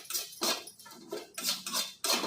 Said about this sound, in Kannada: ಈಗ ಕರಿಬೇವಿನ ಸೊಪ್ಪು ಹಾಕ್ತಾ ಇದ್ದೀನಿ. ಇದನ್ನು ಡ್ರೈ ಆಗಿ ಹುರ್ಕೊಳ್ಳೋಣ.